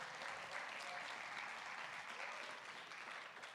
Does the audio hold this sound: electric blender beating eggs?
no